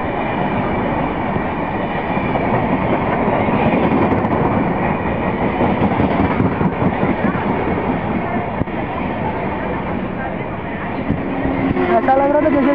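A WAP7-hauled Yog Nagari Rishikesh superfast express rolls past at a station, producing a loud, sustained rumble with rhythmic wheel clatter over rail joints throughout and a brief horn-like tone near the end.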